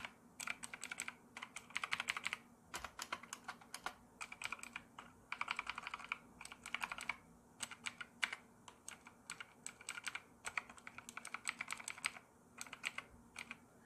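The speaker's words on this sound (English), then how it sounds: "So you have definitely your clicking sound" Fast, steady typing on a mechanical keyboard with clicky blue switches makes sharp, crisp clicks in dense bursts, heard close and alone with no talking.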